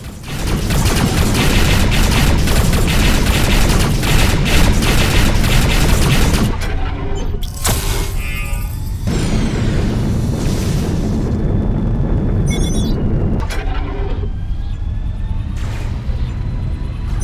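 Broadside cannons and a scatter turret fire in a Rebel Galaxy space battle, a dense, loud barrage of booming blasts and rapid shots that rolls on for several seconds, then breaks into separate heavy bursts with short gaps between them.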